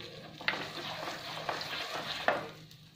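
Turmeric and spices are stirred in a pan for a quick onion pickle, with steady scraping and a few sharp clicks of the spoon against the pan. There is no talking.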